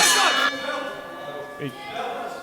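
A ring bell at a wrestling match clangs once at the start, bright and metallic, then rings out into the crowd noise of the arena, with a faint voice in the background.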